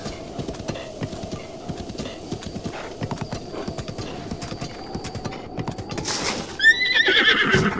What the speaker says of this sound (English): The mighty Moo Cow. Best name for a horse ever